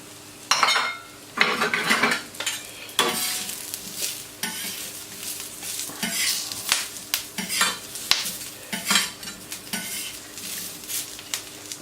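Spicy potatoes stirred in a pan, with metal utensils clanking and scraping against the cookware over a continuous frying sizzle, close up and fairly loud, in irregular bursts without speech.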